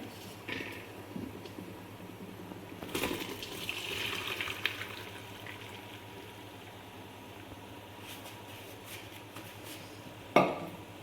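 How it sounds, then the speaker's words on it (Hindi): Water running over cooked macaroni pasta as it is strained in the kitchen, a soft steady wash with a few clinks of pots and utensils and a sharp knock near the end. "ਮੈਕਰੋਨੀ ਨੂੰ ਹੁਣ ਆਪਾਂ ਛਾਣ ਲੈਣਾ ਹੈ"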